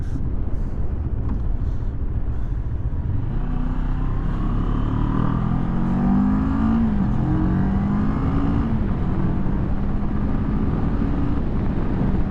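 A 2022 CFMoto 650NK motorcycle engine runs loud and close, its pitch climbing and falling through a rev in the middle, with wind buffeting throughout.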